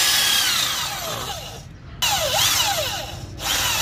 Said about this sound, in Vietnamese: Khoan gỗ này là chuyện nhỏ rồi.